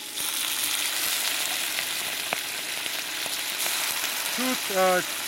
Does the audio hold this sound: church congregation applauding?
no